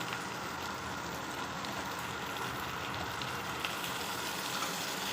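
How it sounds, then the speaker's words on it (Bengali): Green peas tossed into a pan of turmeric-fried vegetables with grated ginger give a steady, close crackling sizzle that runs evenly throughout, with no talking. "এবার আমি এতে অ্যাড করব মটরশুঁটিটা।"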